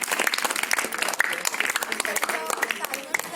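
Applause from a school audience at a high school quiz programme in Nagpur, dense hand clapping filling the room steadily and loudly, with a few claps standing out near the front.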